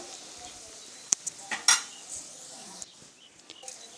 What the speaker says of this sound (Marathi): त्यामध्ये एक चम्मच हळद घालायची आहे छान मिक्स करून घ्यायचं